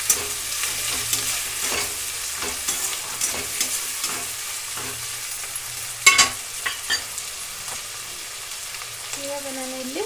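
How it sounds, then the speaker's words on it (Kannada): Tomato frying with curry leaves in a pan for uppittu, a soft sizzle under scattered scraping stirs and utensil knocks, with a sharper clatter near the middle and a brief squeak toward the end. "ಟೊಮೊಟೊ ಸ್ವಲ್ಪ ಫ್ರೈ ಮಾಡಿ ಚೆನ್ನಾಗಿ."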